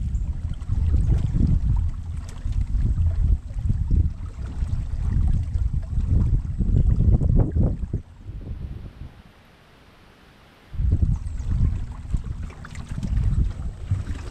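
A small boat's motor putters along on a river at under a mile an hour in a low, steady drone with wind buffeting the microphone; the engine noise drops away briefly partway through, then returns.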